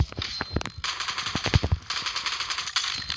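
M249 machine gun firing in the mobile battle-royale game PUBG Mobile, rapid bursts of close, sharp automatic shots with brief pauses between them.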